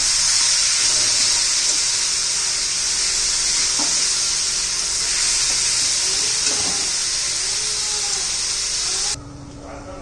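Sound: sautéing onion and tomato until soft

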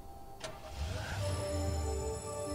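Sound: car driving off in Hotline Miami video game

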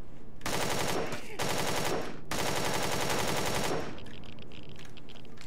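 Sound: gunfire in the video game Empyrion - Galactic Survival

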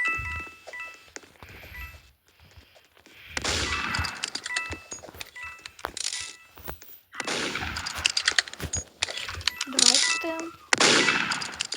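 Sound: gunfire in a video game

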